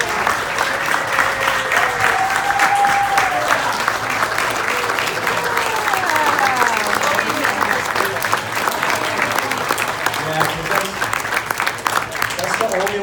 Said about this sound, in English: if you would just stand up so we could give you a round of applause.